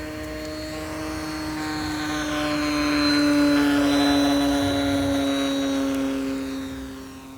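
An E-Flite Cherokee 1.3m electric RC model airplane flies past with a steady propeller whine. The pitch shifts as it approaches and passes, growing louder and then fading.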